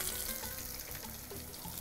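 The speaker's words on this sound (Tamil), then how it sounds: "இப்போது வெங்காயத்தை அதில் போட்டுடலாம்," Onions sautéing in a hot pan give a dense, steady sizzle and crackle throughout, close and fairly quiet, with no talking.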